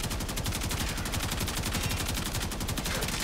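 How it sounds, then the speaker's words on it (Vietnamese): Rapid automatic gunfire from the Karak rifle in the video game Warframe, a continuous dense stream of shots at steady loudness throughout, with no talk. "thử bắn nhá"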